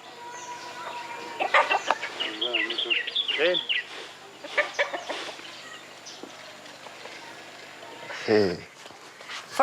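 Several chickens cluck and squawk close by in a busy, uneven chorus at their coop in Zambia, with a louder sudden squawk near the end; a voice speaks briefly among them.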